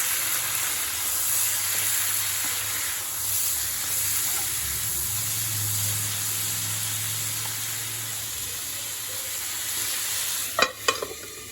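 Halved tomatoes cooking over high heat in a pan for a spicy chutney, giving a continuous even sizzle close by that ends with a few sharp clatters of a utensil, no speech.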